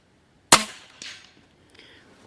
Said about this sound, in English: we'll just shoot our chronograph test